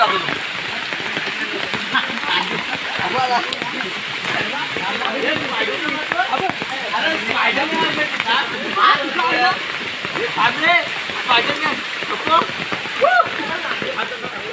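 Heavy monsoon rain pours through a forest near a swimming spot, a dense steady hiss of drops splashing on leaves and water, with voices talking over it.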